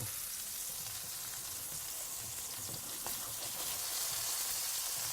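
Food sizzling and frying in a pan while being stirred, a continuous bright hiss with faint scraping of the stirring mixed in, steady and close.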